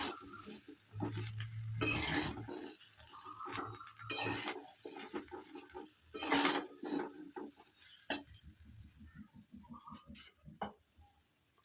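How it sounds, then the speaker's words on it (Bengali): Oil-free mango pickle is stirred with salt and turmeric in a vessel: irregular scraping and clinking strokes of a utensil, fairly close and quiet, with pauses between them. "নুন হলুদটা দিয়ে দিয়েছি এবার নাড়তে পারবে"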